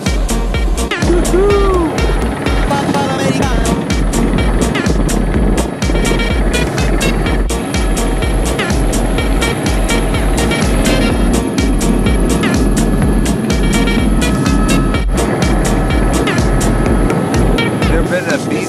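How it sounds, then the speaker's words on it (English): Helicopter sitting on a beach in Waipio Valley after an emergency landing, its rotor beating in a loud, steady, rhythmic chop throughout, with people talking nearby. "Never been to a beach in a helicopter."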